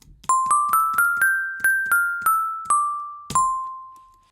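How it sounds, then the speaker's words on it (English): A synthesized FM bell patch played at a higher pitch sounds about ten clear, bright bell strikes in a loose rising-then-falling run, each ringing out and decaying before the next, with the last note left to fade. "you can see we've got quite a nice bell sound there"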